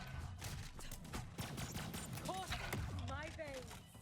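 Gunfire from a weapon in the video game Borderlands 3, rapid repeated shots layered with game effects and chirping tones, mixed under speech throughout.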